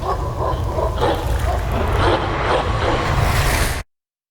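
Dogs bark and yip in an Ace Combat 7 video game cutscene, loud and continuous under a dense layer of game music and noise for about four seconds before cutting off.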